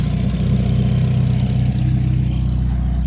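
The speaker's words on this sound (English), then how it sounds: "We also still have a lot of exhaust leaks." Turbocharged Mazda Miata engine idling with exhaust leaks, a steady, loud, low rumble with a rhythmic pulsing chug throughout, close by and with no talking.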